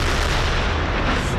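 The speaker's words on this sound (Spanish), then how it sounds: "Las explosiones en Gaza no cesan." Explosions during the Israel–Hamas war in Gaza, a dense, continuous roar of booming blasts and rumbling detonations, loud and unbroken throughout with no voices.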